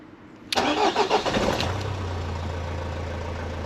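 A cheap used Fiat Panda engine starting: the starter cranks loudly for about a second, then the engine catches and settles into a steady, close, low idle.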